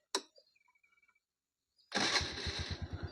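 After a click and brief quiet, a TVS Jupiter scooter's self-starter engages and the engine catches, settling into a rhythmic putter that continues close and fairly loud.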